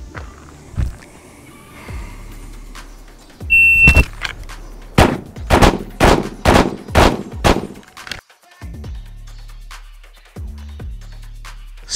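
A shooter draws from concealment and fires five rapid pistol shots at about five yards, sharp loud cracks in a quick string, with a few quieter clicks and handling noises before and after.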